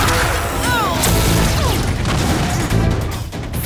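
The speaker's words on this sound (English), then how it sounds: "Micro missile. Fire! Phantom disc. Fire!" Animated battle effects of a micro missile and a phantom disc firing, loud and dense with booming blasts, crashing impacts and whooshing sweeps that run almost without a break.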